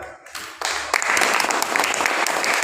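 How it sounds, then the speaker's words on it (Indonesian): A classroom of students claps during a teacher training lesson, a brief lead-in of voice and rustle giving way to a dense burst of close, lively hand clapping. "tepuk tangan"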